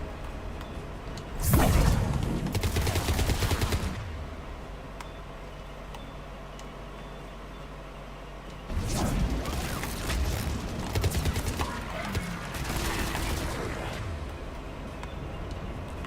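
Gunfire aimed at a Harvester enemy in the video game Mass Effect 3 comes as two long stretches of rapid, crackling shots separated by quieter ambience, with occasional ticking mechanisms.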